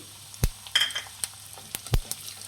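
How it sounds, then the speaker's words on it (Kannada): Chana dal, urad dal and a little cumin fry on low heat in a pan for upma, giving a quiet sizzle. A spoon clacks against the pan now and then. "ಒಂದು ಸ್ವಲ್ಪ ಉರಿ ಕಮ್ಮಿ ಇಟ್ಟು ಫ್ರೈ ಮಾಡಿ ಇದನ್ನು"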